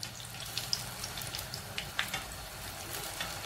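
Seeni paniyaram, a sweet Jaffna snack, frying in hot oil, giving a steady soft sizzle with faint bubbling pops, close and fairly quiet, with no talk.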